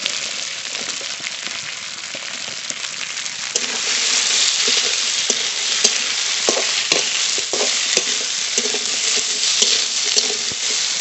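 Onions frying in oil for a dried fish curry cooked village-style, a steady loud sizzle throughout that swells after a few seconds, with occasional sharp clicks of stirring against the pan.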